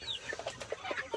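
Several hens on a farm flock of Araucana-type chickens give soft, scattered clucks at a moderate distance over a quiet background, with no one talking.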